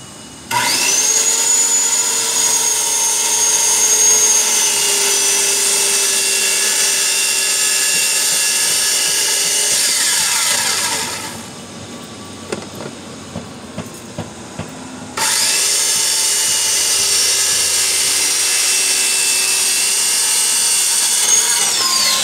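A power saw cuts through a cardboard door, a loud sustained whining buzz with shifting pitch that runs for about ten seconds, drops away to quiet with a few small knocks, then resumes just as loud for the remaining stretch.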